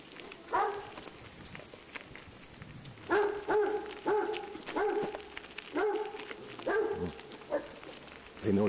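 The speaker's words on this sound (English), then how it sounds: "More barking dogs, or a dog" A dog barks outdoors in a burst of sharp, repeated barks spaced unevenly over several seconds, loud and fairly near, with footsteps and faint background noise.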